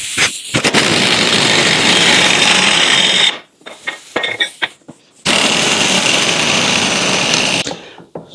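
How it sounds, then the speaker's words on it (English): Power tool whirring loudly while a nut is driven onto a Scout 800 steering box, two long sustained bursts separated by a brief pause with scattered clicks and handling noise. "So now all I have to do is put the nut on."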